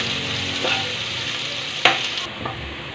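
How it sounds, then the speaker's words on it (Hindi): Chopped onion frying in a pan for poha, a steady close sizzle with a sharp clink of a spoon against the pan partway through. "कटा हुआ प्याज जो हमने पहले से रखा हुआ है काट कर। हम इसे अच्छी तरह भून लेंगे।"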